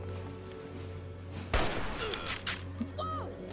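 Hunting rifle fire in Fallout: New Vegas, a single sharp shot cracking out midway over a low game hum, followed by a few fainter pops and scattered effects.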